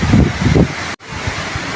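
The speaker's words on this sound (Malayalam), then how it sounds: "ശരിക്കും നല്ല ഹെവി കാറ്റാണ് കാറ്റും മഴയാണ്" Heavy wind and rain near backwaters lined with coconut palms. Strong gusts buffet the microphone in a dense, roaring rush, broken by a brief dropout partway through.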